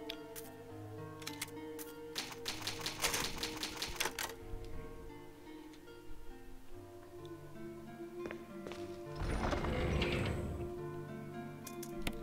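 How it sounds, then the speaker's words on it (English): Clacking typewriter keys ring out as the save sound in Resident Evil Remake HD Remaster on PC, first a rapid burst of strikes, then scattered taps and a brief swell, over steady game music. "Old typewriter, you can save your progress."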